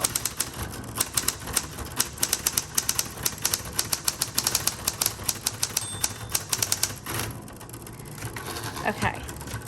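A 1960s Coronet Electric typewriter types in rapid, close, crisp clacks, then pauses, and a softer mechanical whir follows near the end.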